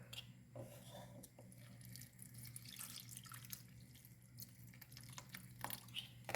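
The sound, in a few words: drinking water poured onto chopped orange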